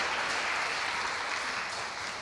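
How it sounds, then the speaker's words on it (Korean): Congregation at a Sunday church service claps steadily in welcome for visiting family, a dense warm burst of applause from many hands filling the room. "잠깐 일어나시면 우리 박수로 환영하도록 하겠습니다"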